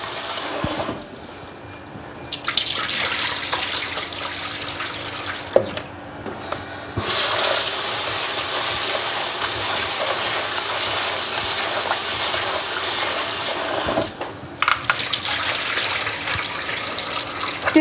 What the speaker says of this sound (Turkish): Bir su bardağı pirincimizi yıkıyoruz şu an.